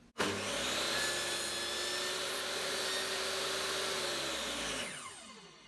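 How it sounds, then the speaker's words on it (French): A handsaw makes the first cut into wood for a dado joint, with a steady rasping stroke sound close up that runs for several seconds and then stops. "J'effectue mon premier trait de scie."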